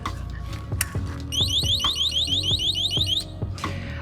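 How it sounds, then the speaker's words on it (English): A loud e-bike anti-theft alarm, rated about 100 dB, blares in fast repeating rising chirps, a piercing siren-like pattern over a low steady hum, stopping abruptly after a few seconds. "someone tries to steal the bicycle, so there's an integrated alarm"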